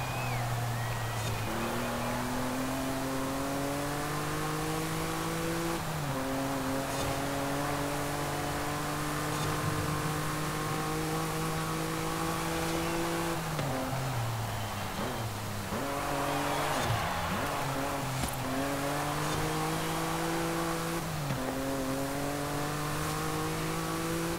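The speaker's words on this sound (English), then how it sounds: "I'll let you listen to the car some more" A 2006 Noble M400 sports car engine in Forza Horizon 5 drones continuously, its pitch climbing steadily then dropping sharply with each gear shift, over and over, loud and constant.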